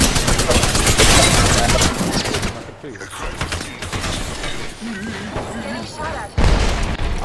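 Gunfire in the Apex Legends video game, loud dense bursts of shots and impacts filling the opening seconds, thinning to scattered shots, then a sharp loud blast near the end.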